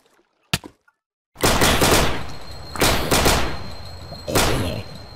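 A sharp single shot rings out in a video game (Minecraft mod), then after a pause heavy bursts of gunfire follow in rapid volleys, loud and close with echoing tails.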